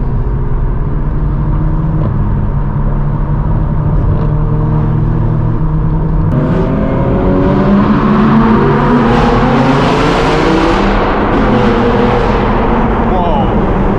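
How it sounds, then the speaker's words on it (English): A straight-piped BMW M4 G82 exhaust roars loud and close, its engine note climbing in rising revs halfway through, with a constant heavy rumble underneath. "This exhaust sounds so good."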